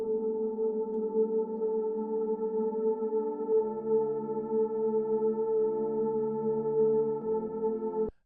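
Sustained, chord-changing synth pads fill a melodic techno break, with held tones shifting at roughly three-and-a-half-second intervals and playing alone at steady volume before cutting off abruptly.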